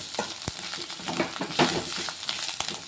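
Garlic cloves fry in a pan for a bitter gourd fry, a dense close sizzle punctuated by sharp spatula taps and stirring scrapes, with no one talking.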